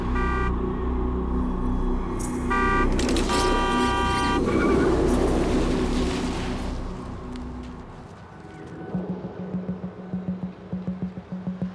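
Busy city road traffic in Singapore, with loud passing cars and repeated car horn toots up close, followed by a rapid rhythmic tapping as the traffic noise fades.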